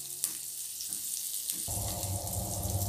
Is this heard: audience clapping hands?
no